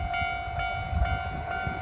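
A train approaching a closed level crossing in a rural area of Japan, with a steady rumble and a sustained high warning tone over continuous mechanical noise, fairly loud and close.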